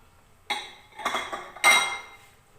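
A spoon clanks three times against a metal pot while yogurt is stirred into an egg and potato curry, each knock close, sharp and louder than the last, separated by short quiet gaps.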